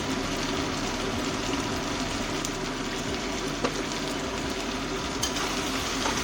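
Soya chicken sautés with cumin, sugar and salt in a pan, a constant hissing sizzle with a couple of faint stirring clicks, close and uninterrupted by speech.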